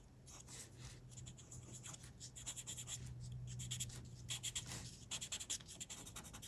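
A pencil scratches and rubs across paper in continuous soft strokes, with short rhythmic flicks toward the end, heard close and quiet over a low background hum.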